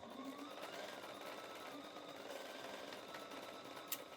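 A sewing machine stitches quilt pieces corner to corner with a quiet, steady whir and fast needle patter, ending with a small click.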